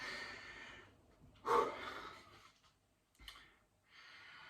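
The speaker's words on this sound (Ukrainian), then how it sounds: "Задишка трохи пішла." Heavy breathing after a set of squats during a home workout: a sharp loud exhale or snort, then softer panting breaths trailing off, with another quick gasp and breath near the end, close and alone.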